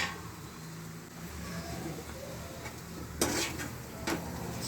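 Jaggery mixture is stirred in a pan over a low flame, giving soft, close scraping with a couple of sharper metallic knocks and no talk.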